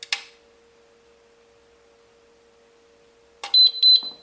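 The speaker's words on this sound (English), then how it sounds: "push the first button down, hold it for 4 seconds, wait for the lights to flash," Electronic beeping from a gun safe keypad: a short beep at the start, a pause with a faint steady hum, then a couple of sharp high beeps near the end.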